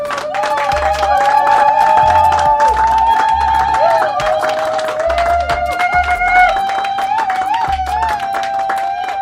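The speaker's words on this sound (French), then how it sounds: "Et acclamons très fort." Guests at a civil wedding clap and cheer together in a room, a loud sustained crowd roar with continuous applause, while a voice and tonal music carry on over the top.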